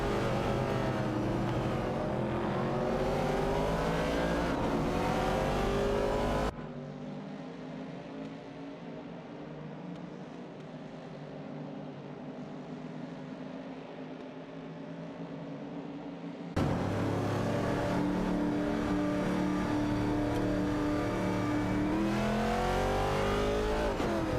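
Race cars roaring at high speed in an AI racing video game. Engines rev and whine loudly, then drop to a quieter, muffled stretch in the middle before the full revving returns, with no speech.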